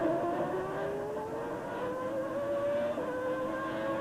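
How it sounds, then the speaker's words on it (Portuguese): A 1992 Williams Formula 1 car with semi-automatic gearbox at the Brazilian Grand Prix qualifying, its engine howling and rising in pitch through smooth gear changes, heard fairly distant and steady. "O giro do motor, a mudança de marcha suave, o câmbio semiautomático, a suspensão eletrônica"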